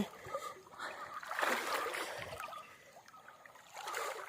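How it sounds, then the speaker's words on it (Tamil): Water flowing and rushing steadily, with a broad splashy hiss that swells and eases, heard up close with no voices. "தண்ணி எப்படி ஓடுதுன்னு பாருங்கள்"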